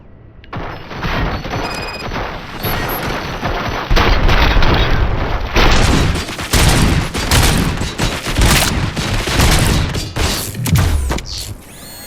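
Sustained heavy gunfire from RoboCop: Rogue City rattles continuously for about twelve seconds, with loud, dense volleys of shots and booming impacts layered over mechanical clatter.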